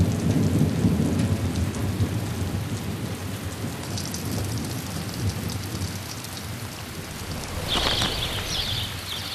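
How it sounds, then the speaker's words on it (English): Heavy rain pours steadily on the Inner Hebrides islands of Scotland while thunder rumbles low beneath it, with a louder crack of thunder near the end. "When it rains here, it really rains."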